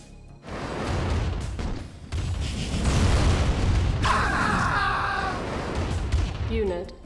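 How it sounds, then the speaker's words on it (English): Heavy airstrike blasts in the strategy game Command & Conquer Remastered, a sustained loud rumbling barrage of booms lasting several seconds with sharper bursts toward the end. "Airstrike ready."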